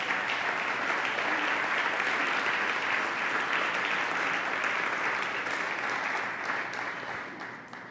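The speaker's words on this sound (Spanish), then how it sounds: "Dale un gran aplauso al Señor" Congregation applause in a Spanish-language church service, a thick continuous roar of clapping that holds steady and then fades out over the final seconds.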